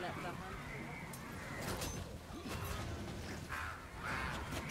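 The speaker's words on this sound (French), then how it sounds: "J'entends un corbeau mais je le vois pas." A crow caws a few times in the game Darksburg, harsh calls rising over steady background game noise while players talk nearby.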